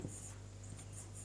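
Chalk or marker writing on a board during a Sanskrit translation lesson, a few short scratchy strokes close by, faint and alone with no talk.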